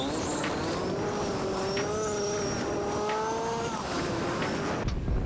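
A racing kart engine in a championship race drones close and loud. Its pitch rises and dips as the throttle shifts between bends, over a constant roar of track noise with no voices.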